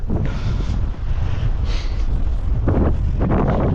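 Strong blizzard wind roaring and buffeting the microphone continuously, with low rumbling gusts and brief hissing surges, no voices.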